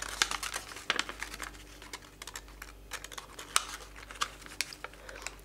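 A sheet of origami paper creased into a mountain fold for a box and lid, heard as close, dry crinkles and soft rustling taps in quick, irregular bursts against a quiet background.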